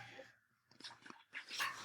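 A dog barks at a mail carrier at the door, with several sharp barks in irregular bursts, fairly close, separated by brief pauses and a whimpering edge.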